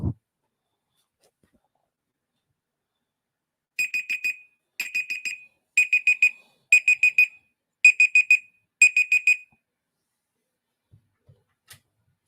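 A kitchen-style timer alarm goes off in six bursts of rapid high beeps, evenly spaced about a second apart, loud and clear over near silence.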